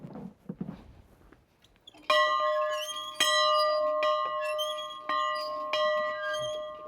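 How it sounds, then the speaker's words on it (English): A rustic camp bell rings out as a doorbell, loud and resonant, struck about five times at irregular intervals with each tone ringing on, after some faint rustling and footsteps. "Oh, that's some doorbell."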